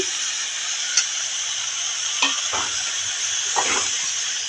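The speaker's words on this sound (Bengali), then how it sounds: "এখন আমি ভোগ চালটা দিয়ে দিচ্ছি।" Fried bhog rice tipped into spices in a frying pan gives a steady, bright sizzle and hiss, broken by a few soft scrapes and taps, close and with no talk.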